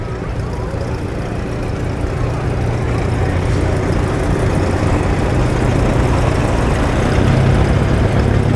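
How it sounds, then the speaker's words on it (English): A 1959 John Deere Model 530 tractor rolls past in the Albany Pioneer Days tractor parade, its steady low engine rumble continuous and fairly close throughout, with faint crowd and voice murmur mixed in. "this is a 1959 John Deere Model 530, owned and operated by Lex Spencer from East Bethel, Minnesota"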